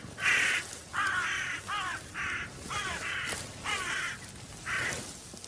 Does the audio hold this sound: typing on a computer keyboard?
no